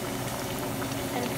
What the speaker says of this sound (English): And now our oil is ready. We're going to add our samosa